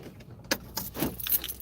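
A bunch of keys jangles in a few quick metallic shakes and clinks, close and fairly quiet, with no talking.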